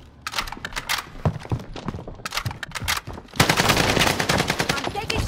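Gunfire in Call of Duty: Modern Warfare, with scattered close shots and thuds giving way to a dense, sustained burst of rapid automatic fire in the second half.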